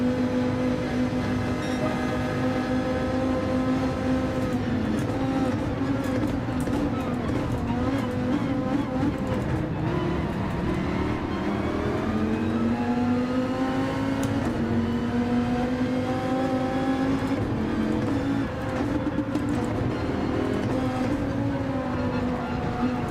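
A Dodge Viper GTS-R Gr.3 race car's engine roars continuously in a Gran Turismo 7 race at Deep Forest, with revs climbing and dropping through repeated gear shifts and engine braking over about twenty seconds.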